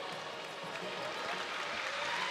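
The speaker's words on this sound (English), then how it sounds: "You can hear the Japanese team. They are always cheering." A team cheering from the crowd at a lead climbing World Cup final in Edinburgh, a faint, steady distant wash of crowd noise with some applause-like texture.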